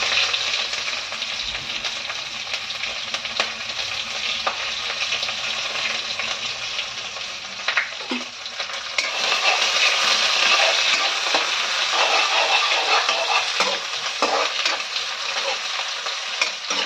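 Onions fry for khichdi in a pan with panch phoron, dried chillies and bay leaves, giving a loud, continuous close-up sizzle that stays dense throughout, with occasional stirring scrapes and a brief surge partway through.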